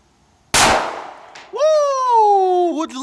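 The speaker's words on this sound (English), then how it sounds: "I'm going to go ahead and attempt to shoot those little plates, which is called a dueling tree" One sharp gunshot cracks out and a steel plate on a dueling tree rings a moment later. A voice then rises in a long excited whoop.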